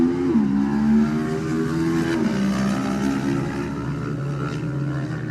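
A classic racing motorcycle pulls away from the start of the Classic TT Lightweight race on the Isle of Man, its loud engine note climbing and falling through gear changes as it draws away.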